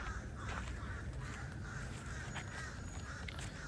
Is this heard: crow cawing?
yes